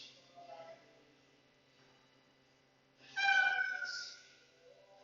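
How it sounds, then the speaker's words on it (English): A pet cat named Oliver meows faintly in a quiet room during a yoga session, one soft cry early on and a louder, drawn-out meow near the end. "I have another kitty joining us, so if you hear meowing"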